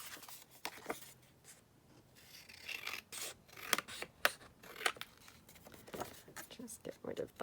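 Scissors cut paper while a folio is trimmed, giving quiet, close snips and rasping slides, with soft rustling and crinkling between them.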